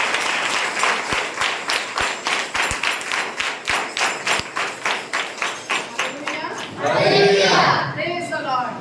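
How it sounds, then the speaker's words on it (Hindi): A Sunday church congregation claps together in a loud, steady rhythm of sharp, evenly spaced claps for several seconds, then the claps stop and a voice begins speaking. "एक बार जोरदार ताली केवल यीशु मसीह के लिए"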